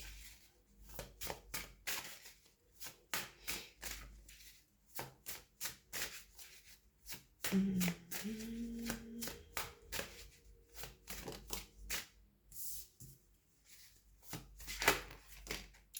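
Small telepathy cards shuffled by hand in a quiet room, giving a run of soft, quick riffling and tapping bursts that stop and start throughout, with a faint brief tone partway through.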